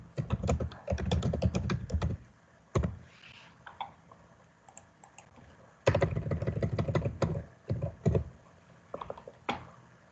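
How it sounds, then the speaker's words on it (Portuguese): Typing on a computer keyboard: irregular bursts of close, clattering key clicks separated by short pauses, with no talking. "Vou ver se fica mais fácil de digitar aqui"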